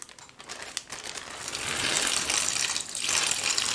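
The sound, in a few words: water poured onto crushed crackers, biscuits and noodles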